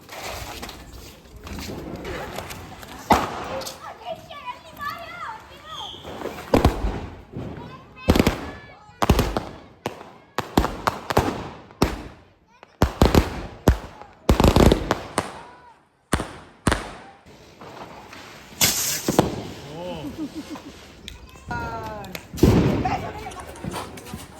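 A long run of sharp bangs from a 25-blast Diwali firecracker string, irregularly spaced and loud, with scattered voices talking between the blasts.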